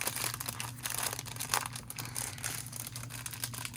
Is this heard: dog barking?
no